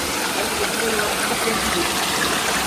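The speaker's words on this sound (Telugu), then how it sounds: "వాటర్ చూడండి ఇక్కడ ఎట్లా వస్తున్నాయి." Water running down from a hillside in a forest near Srikalahasti, a steady, dense rushing wash that stays close and constant throughout, with no break or distinct splashes.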